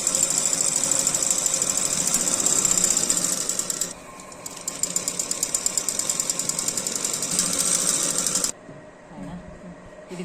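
A sewing machine stitching a designer blouse runs with a fast, loud, even mechanical chatter up close. It pauses briefly near four seconds, runs again, then drops to a quieter hum near the end.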